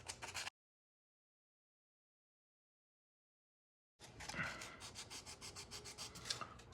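Hand sanding a Tara TM-9 gun part lengthwise, a short burst of rubbing, then silence for several seconds, then steady back-and-forth abrasive strokes in a close, even rhythm.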